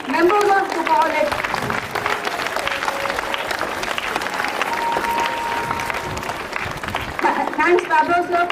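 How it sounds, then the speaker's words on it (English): Sustained applause from an audience at a school event fills the space, dense steady clapping running throughout with a few voices and cheers rising over it at the start and end. "Big round of applause for members of the college."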